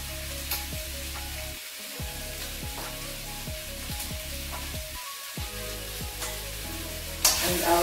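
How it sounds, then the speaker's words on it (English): Chicken shawarma sizzling in a pan as spices are stirred through, a constant close frying hiss broken by regular scraping strokes of the spoon, with no voices. "I'll be stirring it just for the spice to get integrated."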